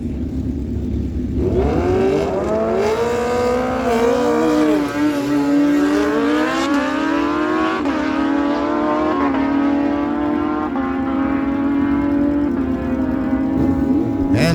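A 2007 Kawasaki ZX-14 sportbike roars off the line at a drag strip, winding up through a rising whine with quick gear-change dips, loud and sustained for the full pass, with no voices over it.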